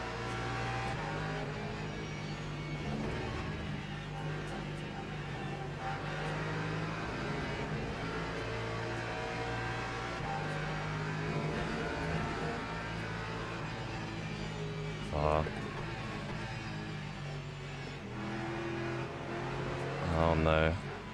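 Racing cars in a sim racing video game during a six-hour endurance race, engines droning steadily as three cars pass in a tow train, with a player talking over the engine noise throughout.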